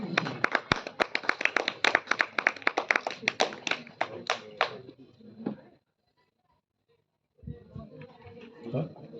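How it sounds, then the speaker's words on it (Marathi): An audience at a district-level singing competition breaks into brisk, dense clapping for about five seconds before it dies away. After a short silence a voice starts speaking. "त्याच्यासाठी एकदा जोरदार टाळ्या होऊन जाऊ द्या"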